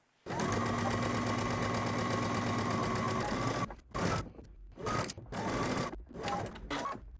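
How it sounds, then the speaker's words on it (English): A sewing machine stitches a cardigan sleeve seam, running in a steady fast whir for several seconds, then stopping and restarting in short bursts as stitching continues. "we're gonna head to the sewing machine and we're gonna stitch our sleeve on"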